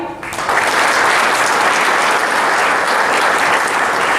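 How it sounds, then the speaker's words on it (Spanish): Congress attendees at the UNAH VS inauguration clap for a doctor, a full, loud round of massed applause rising quickly from a short lull and staying steady to the end. "Un aplauso para el doctor Huarque."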